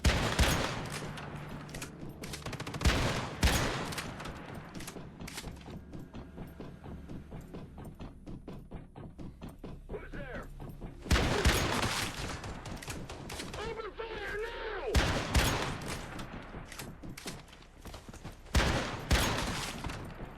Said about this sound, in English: Shotguns are really good if you hit all of your shots